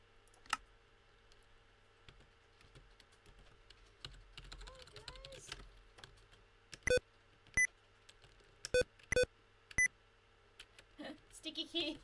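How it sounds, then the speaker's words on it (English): Windows sticky keys warning beeps: about five short, loud electronic tones in a quick irregular cluster, mixed with computer keyboard typing and clicks, with faint voices in the background. "Oh, sticky keys!"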